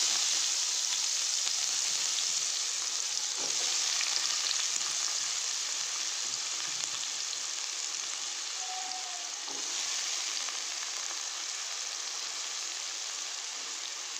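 Onions sizzling in hot oil in a pan, a dense continuous frying hiss that stays close and steady throughout, with a couple of faint knocks and no talking.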